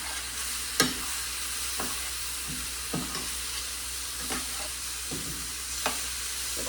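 Rice and beans being stirred in a sizzling pan, with a spoon scraping at intervals over a steady frying hiss, close and fairly quiet.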